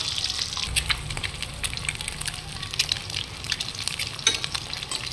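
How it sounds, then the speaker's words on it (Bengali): Eggs coated in turmeric and salt fry in hot oil in a wok, giving a continuous crackling sizzle with sharp spitting pops, loud and close. "ডিম লাল করে ভাজা হয়ে গেছে"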